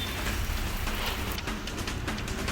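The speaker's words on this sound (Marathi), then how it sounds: "कल्याण डोंबिवली परिसरात जोरदार पाऊस झाला." Heavy rain pours down over the Kalyan-Dombivli area, a dense, steady roar of falling water that stays loud and unbroken throughout, with no voices.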